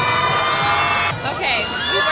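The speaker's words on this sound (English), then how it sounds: "Why is everyone yelling?" A crowd in Xi'an, China yelling and cheering to make a water fountain shoot higher, loud mixed shouting with children's voices rising and falling close by.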